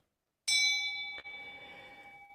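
A single ceremonial Buddhist bell is struck once before a lecture, a sharp metallic ring that rises out of silence and hangs in a long, slowly fading tone, with a faint secondary tap near the end.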